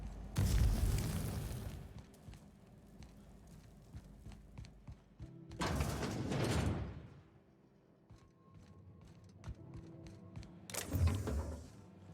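Gunfire and explosions ring out in the sci-fi shooter The Outer Worlds, with three loud bursts of blasts separated by quieter stretches of game ambience, without any speech.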